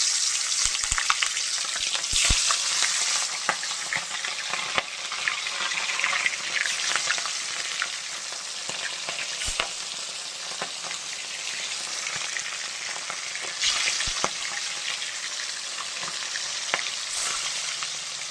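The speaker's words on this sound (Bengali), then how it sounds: "মাছ ভাজা হচ্ছে, ভেজে থাক" Fish sizzling steadily in hot oil in a pan, a dense continuous crackle with occasional sharper pops and spatters, fairly close and alone without talk.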